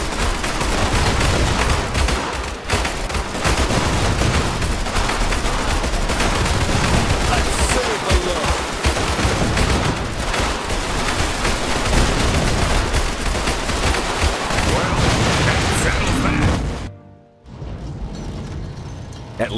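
A loud, dense gunfight in the strategy game Iron Harvest sets off continuous overlapping rifle and machine-gun bursts with booms for about seventeen seconds, then cuts to quieter game sound.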